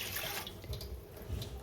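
Water pours steadily into a pot of rice in a home pressure cooker, about two and a half glasses, making a continuous close splashing rush for under two seconds.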